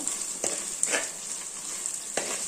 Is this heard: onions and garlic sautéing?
yes